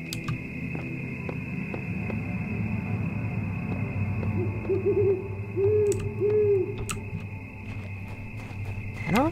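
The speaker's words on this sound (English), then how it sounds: "remember the owl hooting sound ever being in the game" Owl hooting in the video game The Talos Principle, a series of low rounded hoots over a steady ambient hum, fairly close and clear, with no talk.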